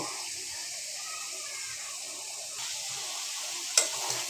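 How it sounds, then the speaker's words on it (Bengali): Prawns and spices sizzle steadily in a pan with a bright, continuous frying hiss and faint stirring scrapes, ending in a sharp clink near the end. No one speaks. "মাছটা ভালো করে কষায়ে পরে লতি দিব"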